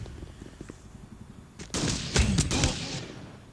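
Rapid gunfire from the mobile shooter Guns of Boom, a dense burst of overlapping shots that starts suddenly after a quieter stretch and runs loud and close to the end.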